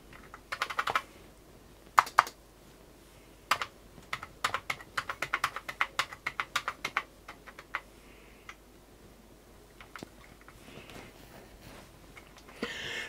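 Fingers type on a repaired Commodore 128 keyboard, crisp close clicks in uneven bursts with pauses between them and no talking.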